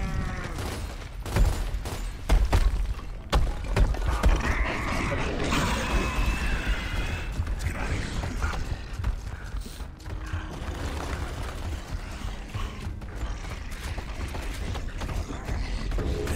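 Heavy doors opening in Gears of War: a long mechanical grinding and creaking with ratcheting clanks, rising and continuing for many seconds amid scattered gunfire and battle noise.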